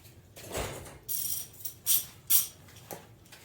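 Socket ratchet clicking while working on the crank angle sensor of a Z31 Nissan 300ZX, a few short close bursts of metallic ratcheting separated by pauses.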